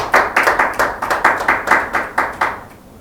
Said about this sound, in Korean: 박수 쳐 빨리.